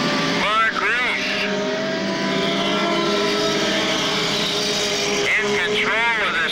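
Scramble cars racing on a speedway track, loud engines roaring and passing close by with whining revs, while an announcer calls the race over the public address.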